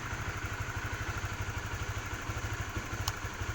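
A Honda CB150R motorcycle engine runs at idle nearby with a quiet, even, rapid thumping pulse and no speech.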